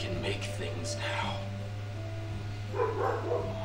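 Dogs bark intermittently in the background, faint and distant, under a steady electrical hum while someone talks over the sound.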